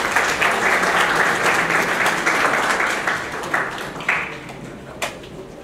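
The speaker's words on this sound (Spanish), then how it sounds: "Le brindamos nuestros mejores aplausos al señor Jorge Vilches Pérez" Audience applause for a speaker at a formal session on tax court rulings, a dense steady clapping crowd that holds strong for several seconds and then thins, tapering toward the end with a few scattered claps.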